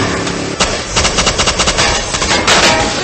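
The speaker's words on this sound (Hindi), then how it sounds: "तुम भी गोलियां चलाओ।" Rapid machine-gun fire rattles through a film battle scene, loud close bursts of quick repeated shots with short gaps between volleys, intense and alone without talk.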